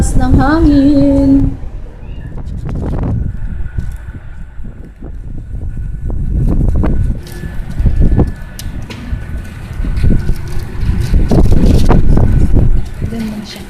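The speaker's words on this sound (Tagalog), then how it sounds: "Lakas ng hangin." Strong wind during a rain and sandstorm in Doha buffets the microphone in heavy low rumbling gusts that rise and fall, while people talk over it.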